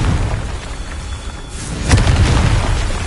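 A Confringo blasting spell goes off in a wizarding game, a single loud booming burst about two-thirds of the way through, followed by a rough rumbling tail over a steady noisy background.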